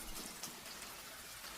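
Steady rain falls in a soft, even patter, quiet and constant with scattered drop splashes and no voices.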